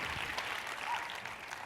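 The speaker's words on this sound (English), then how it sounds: "Give yourself a round of applause." Brief burst of audience applause at an evening conversation event, steady clapping from a crowd at modest volume with no speech over it.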